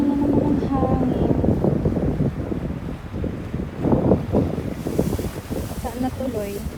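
Wind buffets the microphone at a beach in Siruma with waves nearby, a steady broadband rush and gusts that swell and fade throughout. Voices murmur faintly underneath.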